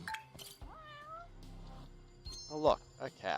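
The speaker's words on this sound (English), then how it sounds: "Oh look, a cat." A cat meows a few times in the video game Judgment, with short rising and falling calls close by amid light game sounds.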